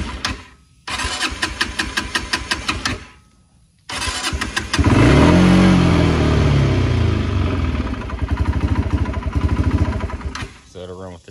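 A Kawasaki Brute Force 300 ATV engine cranks in rapid starter bursts, catches and runs loud and close with the choke on, the idle wavering before it fades near the end.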